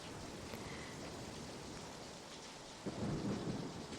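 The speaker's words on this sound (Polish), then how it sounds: "złapał go i jego towarzyszy wielki sztorm, czyli burza na oceanie" A thunderstorm at sea played as a sound effect: steady hissing rain and a low, continuous rumble, with a louder roll of thunder swelling near the end, faint and distant overall.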